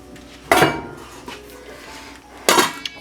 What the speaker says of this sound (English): cover with a lid and let this sit for 5 minutes